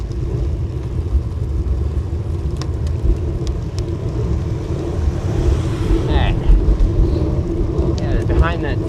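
Busy urban traffic with cars streaming past near a cold-weather bike commuter's route, steady low rumble and buffeting wind noise throughout, a couple of brief higher squeals near the end.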